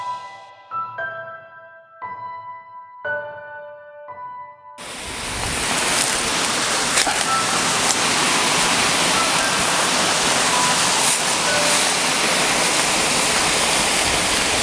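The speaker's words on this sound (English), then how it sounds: "You can hear the water, right?" After a few plucked musical notes, a steady rushing roar of water pouring over small falls takes over, loud and continuous.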